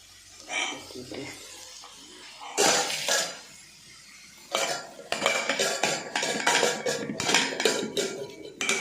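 Egg fried rice with pepper powder being stirred in a pan, with bursts of metal utensil clatter and scraping against the pan over a faint sizzle, and some talk in between.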